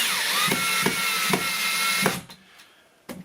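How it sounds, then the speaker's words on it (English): A power drill drives a screw into a wall stud while a shelf is installed, a steady high whine with rhythmic pulsing that cuts off abruptly, followed by a few light clicks and handling sounds. "let's attach another screw to the bottom part of this, also into the stud, because the stud runs downward."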